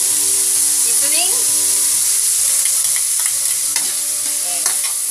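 Ampalaya, bitter melon, stir-fries in a pan with salt, pepper and seasoning, a steady dense sizzle with occasional scraping stirs and faint tonal squeaks, close and continuous.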